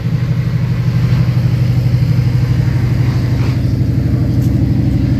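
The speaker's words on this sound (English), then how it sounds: "a cool look into the cockpit there while the car is running" A GT race car engine idles nearby on the grid at Virginia International Raceway with a deep, steady, throbbing rumble that holds constant and loud for the whole stretch.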